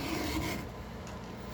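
Hand file rasping across a work chain to sharpen it, a few quiet back-and-forth scraping strokes close by with no talk.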